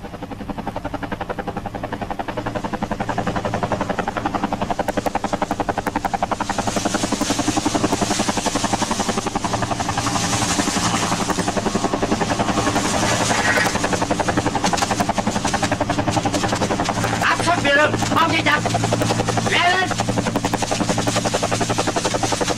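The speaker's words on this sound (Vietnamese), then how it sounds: "Tại sao lại có trực thăng?" A helicopter drones continuously overhead, its rotor thumping and engine whine loud and sustained, with a few faint chirping sounds partway through.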